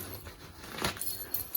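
Padlock and keys jangle in a pocket, a brief metallic rattle peaking about midway and then a couple of small clinks, fairly quiet against faint background noise.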